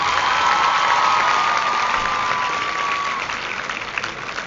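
An audience gives sustained, even applause at a motivational speech event, with a faint cheer mixed in and a thin steady whistle-like tone running beneath for the first few seconds.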